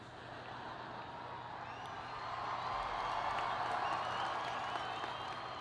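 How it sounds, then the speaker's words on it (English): A graduation audience cheers and applauds for several seconds, a distant, faint wash of clapping and crowd noise that swells toward the middle and holds there. "that shouldn't get such a big cheer."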